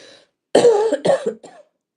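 A few harsh, wet coughs close up from someone sick and coughing up mucus, a long one followed by a shorter one and a faint trailing hack, with quiet before them.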